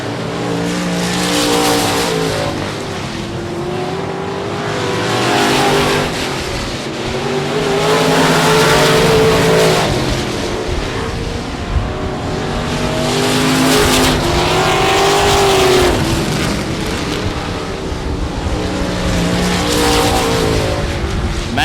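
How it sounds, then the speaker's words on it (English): Race cars circling the track at South Texas Speedway, engines roaring loud and continuous as packs pass in waves with rising and falling pitch, under crowd and track ambience. "Fox still your race leader by a straightaway over to 13 of Howie Marks"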